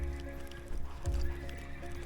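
A horse trotting around cones while acting up, brief hoof clip-clop with a short whinny, moderately close over steady background hum.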